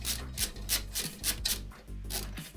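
Metallic rasping and scraping as bolts are worked loose inside a case during an AMD PC build, a steady run of short, close scratchy strokes and creaks with no talking.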